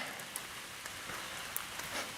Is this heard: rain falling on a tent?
yes